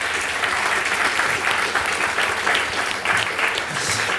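Dense, sustained applause from a conference audience after a presentation on CSR and equality perception results, loud and even from start to finish with no pauses.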